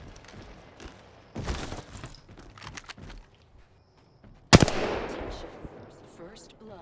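Gunfire in the Apex Legends video game: scattered shots and short bursts, including one sharp, loud crack partway through, with thuds and movement around them and players talking between the shots.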